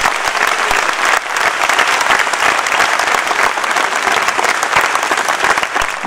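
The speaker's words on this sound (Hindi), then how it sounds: "जरा जोर से तालियां बजाकर इसका समर्थन करें" A large political rally crowd in Indore applauds loudly and continuously, a thick roar of many clapping hands with a brief dip early on before it surges back and holds strong.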